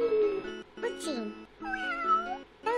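Several cartoonish cat meows from an educational children's game, each a short rising-and-falling cry in a rhythmic sequence with brief gaps, clear and close with no talking over them.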